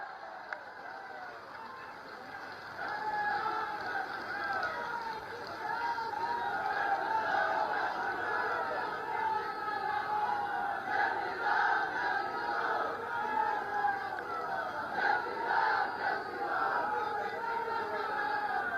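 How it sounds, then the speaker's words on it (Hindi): A large crowd at a public event in Azamgarh applauds and cheers to welcome Maharaj ji, a steady mass of clapping and voices swelling after a quieter start and holding loud and continuous throughout. "सभी लोग खड़े होकर और जोरदार तालियों के साथ पूज्य महाराज जी का स्वागत"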